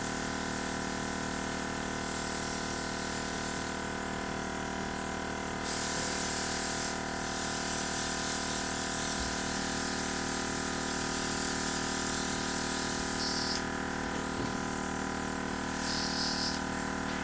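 A Luminesse airbrush system sprays makeup in a steady, close hiss that runs the whole time, with the compressor pump's rhythmic pulsing underneath and brief surges in the spray. No one speaks.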